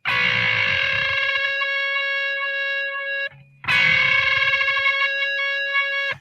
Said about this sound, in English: your ear locks onto it, and it sounds like this very guttural, screaming, impure rage sound